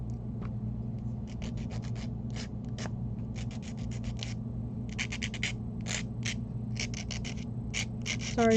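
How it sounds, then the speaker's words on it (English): Repeated short scratchy strokes rasp back and forth over a steady low hum, a rhythmic sanding sound close by. "Sorry for the sanding noise"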